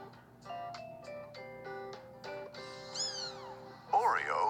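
Hungry young tuxedo kitten meows loudly several times near the end, sharp high cries over soft background music, with a voice talking across the clip.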